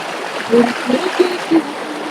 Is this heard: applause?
no